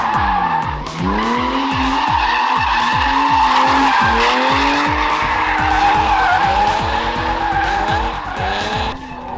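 A car drifts at a large car meet in Chojna, Poland, with loud, close, sustained tire squeal over an engine revving up and down again and again.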